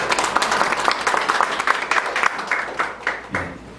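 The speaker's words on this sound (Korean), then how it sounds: "열과 성의를 다해 발제해 주신 성경현 교수님께 다시 한번 박수 부탁드립니다." Applause from the audience at a policy discussion forum, a steady burst of clapping that holds for about four seconds, then thins out and fades near the end.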